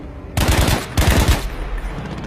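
Gunfire from shooting thrown grenades out of the air in Battlefield V, two loud bursts of rapid shots in quick succession, close and dominant, with a lower rumble trailing off.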